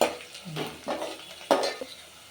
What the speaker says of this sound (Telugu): కొంచెము ఉల్లిగడ్డలు ఎర్రగైన దాకా వేసుకుందాము, ఇంక ఎర్రగా కాలేదు.